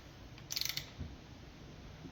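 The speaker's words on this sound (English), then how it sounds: "we're going to go ahead and get them torqued." Lug nuts on BONOSS wheel spacers fitted to a 2024 Lexus TX are tightened with a torque wrench. A short cluster of quick metallic clicks rings out, fairly close, before the surroundings go quiet again.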